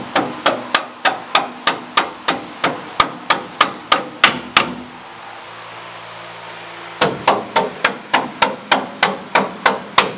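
Loud, evenly spaced metal hammer blows strike a frozen bolt in a leaf spring hanger, about two per second in two long runs separated by a pause of several seconds.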